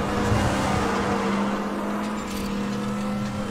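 Muscle car in the racing game Need for Speed The Run, its engine droning in a steady, sustained roar with a faint rising whir, fairly loud and continuous, no voices present.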